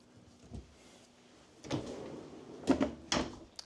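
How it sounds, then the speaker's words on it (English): A few soft wooden sliding and bumping sounds as a pull-out spice rack in a 2026 Forest River Sandpiper RV is pulled out and pushed, quiet and close in a still room. "Slide out little spice rack, little pantry,"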